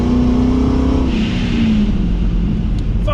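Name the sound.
supercharged 2010 Chevrolet Camaro SS exhaust revving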